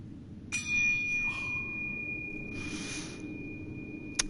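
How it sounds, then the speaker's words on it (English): A bell is struck once in the video game Sekiro, giving a clear metallic ding that rings on faintly and steadily over a low ambient rumble, with a small click at the end. "We're gonna ring this bell."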